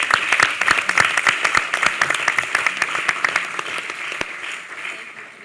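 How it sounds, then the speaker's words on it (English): An audience applauds at a wine, beer, spirits and cider summit hosted by New York's governor. The claps are loud and rapid, then thin out and fade toward the end. "Please give her a round of applause."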